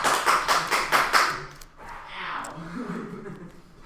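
Several rapid bursts of hand clapping from students in a math classroom, loud and close, fading after about a second and a half into murmuring voices.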